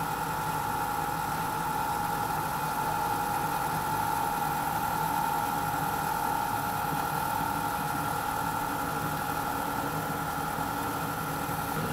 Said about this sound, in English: Today I'm using the Carnival King, and I have warmed this machine up for quite a while already today